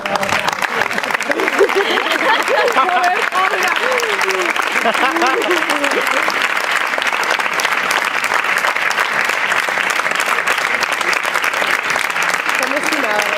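Poetry recital crowd breaking into loud, continuous applause, many hands clapping in a dense unbroken roar, with voices talking over it early on before the clapping dominates.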